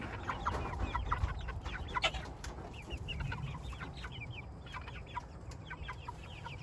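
Meat chickens around eight weeks old clucking as they come out to feed, a busy chorus of soft clucks and chirps over a low steady background hum, close by, with no talk.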